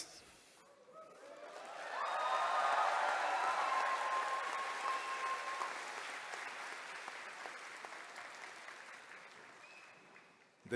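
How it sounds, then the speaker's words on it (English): A commencement ceremony crowd claps steadily, swelling to a loud, sustained burst of applause with whoops and cheers, then slowly tapering off. "Please express your pride, applaud, and cheer loudly."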